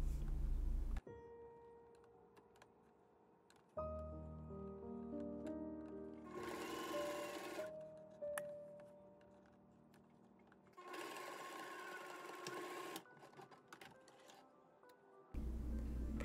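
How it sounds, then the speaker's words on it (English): A sewing machine stitches the angled pocket seam on a trouser front, running in several close bursts of rapid mechanical whirring separated by short pauses. "sew the top pocket to the front trouser leg along the angled pocket seam"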